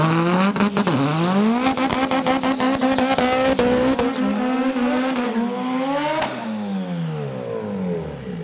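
Front-wheel-drive drag cars launch hard at Santa Pod Raceway, one a Saab-powered Corsa, engines screaming loud and close with rising harmonic tones through gear changes, tire squeal and sharp crackles, then dropping in pitch as they pull away.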